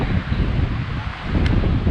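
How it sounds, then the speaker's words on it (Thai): Strong wind blowing outdoors on a winter trip in Prachuap, a steady broadband roar of gusts buffeting the microphone, loud and continuous with no talk. "ลมแรงจัด"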